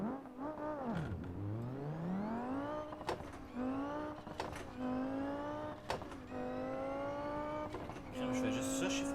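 A car engine in BeamNG.drive, played on a Logitech G27 wheel, revs up, and its pitch drops at each gear shift in a repeating climb-and-shift pattern. Someone speaks French over the engine.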